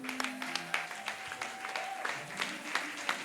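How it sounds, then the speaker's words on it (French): Church congregation applauding and acclaiming the Lord during a worship service, steady rhythmic clapping from a crowd at moderate distance, with a sustained musical tone and faint voices mixed in. "est-ce que tu peux acclamer le Seigneur?"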